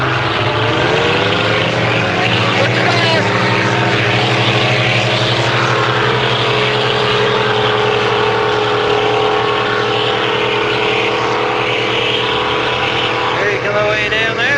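Racing boats powered by a big block Dodge and a big block Chevy engine roar at a memorial boat race, a loud, steady, sustained engine drone holding for the whole stretch with a slight pitch rise near the end.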